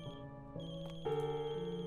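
A phone ringtone plays in the horror video game The Closing Shift, a faint melodic electronic tune stepping through a few sustained tones, with no other sounds.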